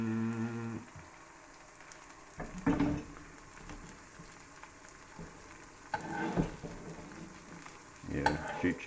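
A cheese burrito fries in a pan until crispy, giving a soft, quiet sizzle with a few louder scrapes and shuffles as it is moved, heard close with no talking.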